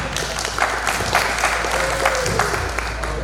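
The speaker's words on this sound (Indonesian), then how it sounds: "Tepuk tangan dulu dong buat kita semua" An audience at a stand-up comedy competition claps steadily, with dense, fairly loud applause and a light crowd murmur running through the whole stretch.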